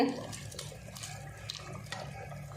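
Hot water pours steadily into a cooking pot for biryani, a close, continuous splashing gush.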